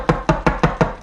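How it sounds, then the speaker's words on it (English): Five quick, evenly spaced knocks of a bowl of deviled egg filling tapped against a table, close and fairly loud, with a hollow resonant ring. "if you do this and you tap, sorry for the noise, tap it on the table"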